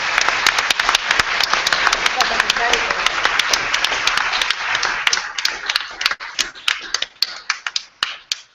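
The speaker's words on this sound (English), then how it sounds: "Can we give a big round of applause to all our debaters?" An audience applauding debaters at the end of an evening debate event, a dense round of clapping that stays loud for several seconds and then thins to scattered claps.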